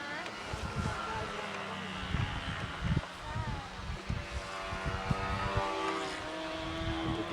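A muffled model airplane engine at a 2005 Brodak fly-in, a steady droning hum heard at a distance under the talk of people nearby.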